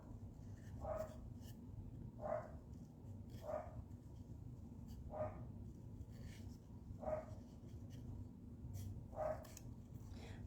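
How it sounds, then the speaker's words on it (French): A dog barks repeatedly upstairs at a slow, even pace, muffled and distant, over a low steady hum. "mon chien jappe en haut"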